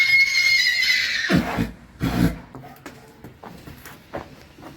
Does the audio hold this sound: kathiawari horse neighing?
yes